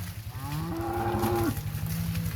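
Cattle graze ice-coated milo in snow after a blizzard, and one cow gives a long, clear moo over a steady low rumble of nearby livestock.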